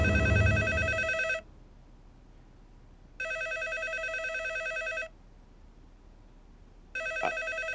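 A telephone rings in bursts, each trill lasting about two seconds with a pause between, clear and fairly loud in a room, a brief low rumble at the start and no speech.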